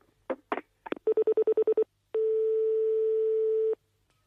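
Telephone dialing: a few short clicks, then a quick rhythmic series of beeping tones, followed by one long steady tone, heard clearly and alone.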